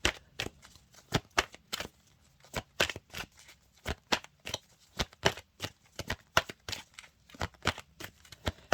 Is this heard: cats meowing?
no